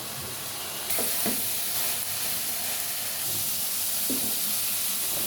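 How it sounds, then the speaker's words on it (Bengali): Pointed gourd and Malabar spinach stems sauté in hot oil, giving a steady, close sizzle and hiss that holds throughout with a few faint stirring knocks. "আমরা এক এক করে সবজি অ্যাড করে দেব প্রথমে দিয়ে দিচ্ছি পটল দিয়ে দিব পুঁই শাকের ডাটাগুলো"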